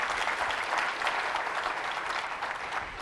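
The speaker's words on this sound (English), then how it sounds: "Give yourselves a round of applause." Audience applause at a talk by a public buildings commissioner, steady and fairly full clapping from a crowd throughout the short stretch.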